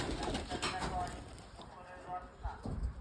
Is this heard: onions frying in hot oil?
no